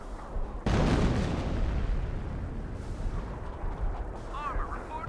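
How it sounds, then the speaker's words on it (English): A close-range artillery barrage in the strategy game Company of Heroes: a sudden loud blast followed by a rumbling roar of continuous fire and debris, with faint game voice chatter underneath. "Boomol, close range barrage"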